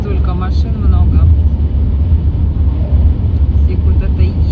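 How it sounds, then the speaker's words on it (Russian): Steady loud road rumble from inside a moving car, with dense traffic passing on a rural highway in the Komi Republic and voices talking over it. "Столько машин много."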